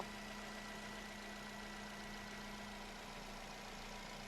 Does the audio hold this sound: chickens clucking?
no